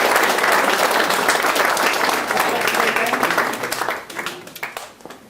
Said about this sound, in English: a round of applause for Patsy.